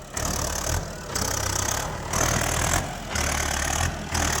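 A BULL 76hp tractor engine runs while loading mud alongside a JCB 3DX Plus, a steady low rumble broken into regular surging pulses, close and loud with no talk.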